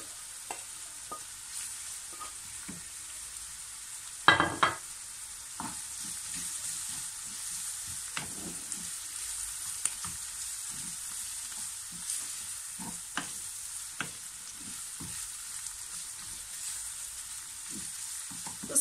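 Onions frying in a pan as spices are added for a Turkish hand-rolled spinach börek filling, a soft steady sizzle with scattered stirring clicks and one louder scrape partway through, no talking.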